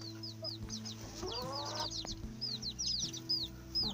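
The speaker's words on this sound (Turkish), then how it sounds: "İsveç civcivlerimiz de son hızıyla büyümeye devam ediyorlar arkadaşlar." Several Ispenç chicks cheep and peep in quick, high chirps over a steady low hum, with occasional soft clucks close by.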